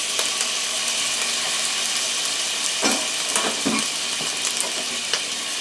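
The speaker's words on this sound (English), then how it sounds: "I'm going to put the shrimp and onions in" Shrimp and onions hit a hot pan for shrimp fried rice, giving a loud, steady sizzle with a few scraping stirs partway through and no talking.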